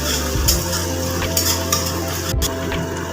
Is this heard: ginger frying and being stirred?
yes